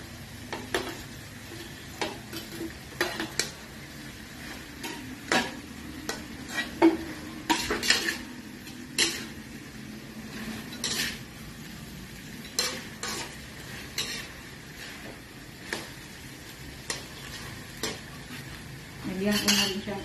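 Fried galunggong fish pieces go into a pan of cooked-down tomato sauce, followed by repeated clinks and scrapes of a utensil against the pan as it is stirred, with a soft sizzle beneath and occasional sharper knocks.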